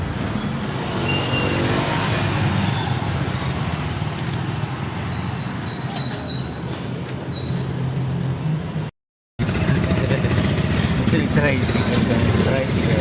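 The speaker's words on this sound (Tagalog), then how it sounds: "Ayan, tricycle." Motorized tricycle engine running steadily at a roadside terminal, a continuous mid-level rumble under nearby street noise, cut by a brief dropout near the end.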